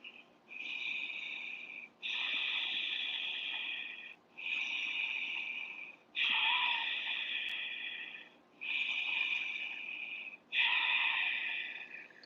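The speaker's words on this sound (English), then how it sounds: "take 3 ujjayi breaths here" Six slow, even ujjayi breaths during a yoga pose, each a long, close, hissing ocean-like rush of air through the throat, with brief quiet gaps between them.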